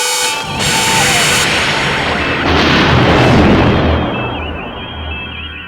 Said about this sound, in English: They fired their weapons.